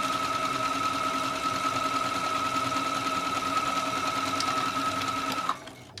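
A sewing machine runs steadily for about five seconds, closing a dress seam, with a constant loud motor whir and rapid stitching hum before it stops abruptly near the end.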